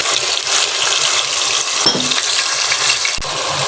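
Onion paste hits hot oil in a pan for mutton liver masala, giving a loud, continuous sizzle with a brief stirring clatter partway through and no voices.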